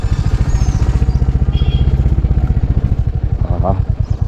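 A hired jeep on a narrow road through forest near Kotagiri, its engine loud and close with a fast, steady chugging throb that holds the whole time, plus some rattling.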